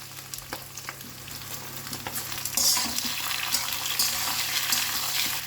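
Capsicum and bell pepper frying with translucent onions in a pan, a continuous close sizzle with scattered stirring clicks that grows louder as the vegetables settle into the hot oil.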